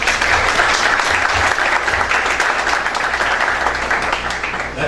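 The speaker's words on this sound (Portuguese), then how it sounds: "A quem eu peço uma salva de palmas." Applause fills the hall at a formal solemn session of a college of public prosecutors: a broad, dense wash of many hands clapping, steady and fairly loud throughout, with no talk over it.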